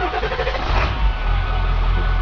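Ford F350 pickup with a 7.3L diesel engine and HHO dry cell fitted, idling with a steady, dense low rumble and a continuous clattering drone close by.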